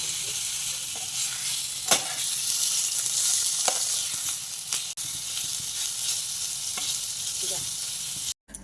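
Chicken pieces frying in a pan, stirred now and then, giving a steady broadband sizzle with occasional scraping knocks of the spoon against the pan; no talking.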